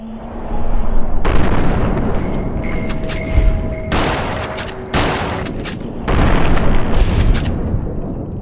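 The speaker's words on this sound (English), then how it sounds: "I took the chance to try out my new shotgun and got a second test when another scorpion skittered forward." A pump-action shotgun fires at a radscorpion in Fallout New Vegas. About four loud, booming blasts come several seconds apart, each trailing off into a rumbling decay.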